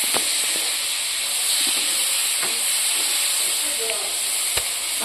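Meat sizzling in a pan with fried onions and whole spices for a local chicken curry: a constant bright hiss and crackle with scattered pops and clinks, close by and steady.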